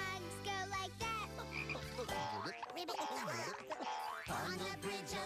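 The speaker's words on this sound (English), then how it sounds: "The frogs go like that." Croaking frog sounds in a children's song, a run of wobbly, bouncy croaks that sit over and between the backing music and sung melody, loud and steady across the passage.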